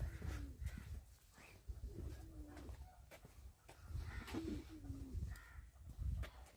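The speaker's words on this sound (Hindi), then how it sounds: "ये चिड़िया भी तो है।" Faint cooing of a bird, pigeon- or dove-like, repeats several times at a farmhouse against a low rumbling background.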